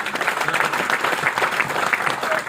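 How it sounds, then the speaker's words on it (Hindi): Audience applause at a Hindi comic poetry recital, a dense, steady burst of many hands clapping close and loud, continuing unbroken for the whole moment with no speech over it. "एक बार ताली बजा दे,"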